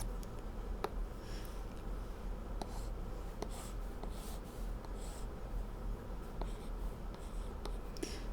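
Pen or marker drawing and writing on a board for a trigonometry lesson, faint scratchy strokes with intermittent small ticks and taps, no talking.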